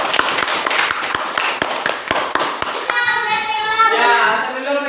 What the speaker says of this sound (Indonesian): kita memberi aplaus untuk kelompok 2 tersebut